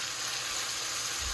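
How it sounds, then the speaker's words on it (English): Ground pork sizzles in a pan in a constant bright crackle for savoury Vietnamese rice cakes, with a low bump near the end. "I have my ground pork in there frying."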